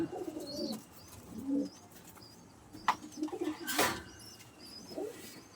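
Pakistani high-flying pigeons cooing in soft repeated low calls, with brief chirps and a flutter of wings nearby, fairly quiet and with no talking.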